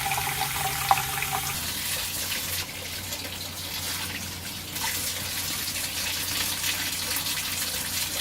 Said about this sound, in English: So you flush the water through all the lines.